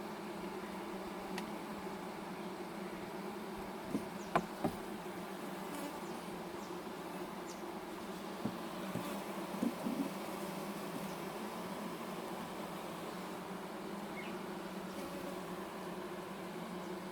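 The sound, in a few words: honey bees buzzing around hive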